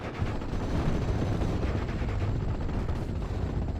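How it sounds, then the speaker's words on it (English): Nebelwerfer rocket artillery barrage in a video game: a dense, continuous roar of blasts and rumbling impacts that fills the whole stretch at steady loudness, with no voices. "We do got a Nebel Warfare barrage coming in"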